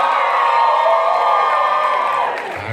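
An audience at a Sprinter event screams and cheers loudly, a dense, high wall of shrieks and whoops that holds steady before starting to fade near the end.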